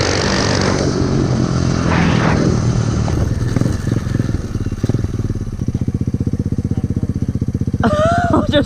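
An SSR 125 pit bike rides through hilly terrain with its small engine droning loud and steady, the pitch rising and falling as the throttle changes, then settling into a fast, even putter.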